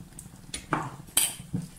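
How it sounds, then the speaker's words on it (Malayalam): A metal spoon scrapes and clinks against a pot as salt is stirred into sambar. It makes four or five short, quiet knocks at an uneven pace, and no one speaks. "ഇനി അത് നല്ലോണം ഇളക്കി സെറ്റാക്കണം"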